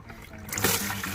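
Oil trickling and draining from an opened plug on a 1956 John Deere 60 tractor, a steady close pour that begins about halfway through and runs to the end.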